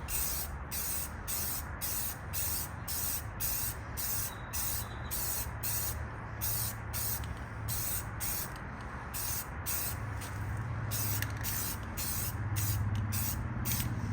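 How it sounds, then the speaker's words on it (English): Aerosol spray paint hisses steadily and loud while coating BMW brake calipers and their brackets on an E90/E92-era car, in repeated bursts with short pauses, alone without voices. "I'm also hitting the brackets as I'm spraying."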